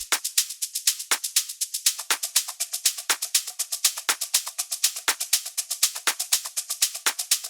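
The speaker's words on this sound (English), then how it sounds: "I like using a shaker loop." A shaker loop for a progressive house track plays alone, a fast, bright, steady rattle of even sixteenth-note strokes with regular louder accents on the beat. The loop is crisp and close throughout.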